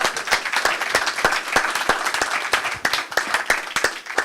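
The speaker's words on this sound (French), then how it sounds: "Alors je vous propose d'applaudir évidemment ce témoignage ici avec nous." An audience applauds a testimony at a conference on new products and future industries, with distinct, closely spaced hand claps forming a lively, uneven patter from a modest crowd, close and clear.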